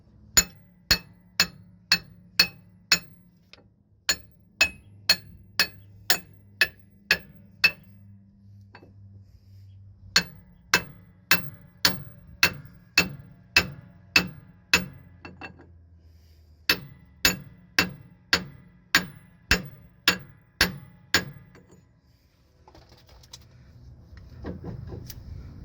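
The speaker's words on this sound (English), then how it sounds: "And on this one we're gonna hit it with a hammer." A hammer repeatedly strikes a 2-1/8-inch socket to drive a pinion yoke onto a Freightliner Cascadia truck axle, ringing metallic blows in steady rapid runs of several hits, sharp and close, separated by short pauses.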